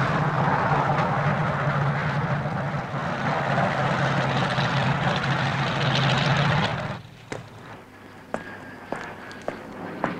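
An aircraft approaches to land, its engine giving a loud, sustained roar that cuts off abruptly, leaving a quieter scene with a few clicks and knocks.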